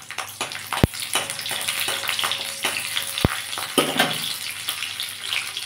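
Garlic frying in a hot pan with dried chillies, a steady busy sizzle and crackle throughout, with two sharp clicks of a utensil against the pan.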